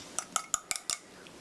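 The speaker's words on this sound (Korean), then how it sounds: "자, 이렇게 고루 섞어주시고요." A utensil clinks rhythmically against a bowl as flour is mixed into boiling water to make a dough, five quick evenly spaced taps close by and fairly faint, then quiet.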